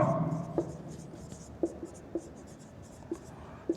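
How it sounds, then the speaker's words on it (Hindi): Writing an example on a board during an English vocabulary lesson, faint scratching strokes with sharper taps at irregular intervals, heard close and alone. "और इसके ऊपर एक एग्जाम्पल लिख लेते हैं, अक्षय कुमार"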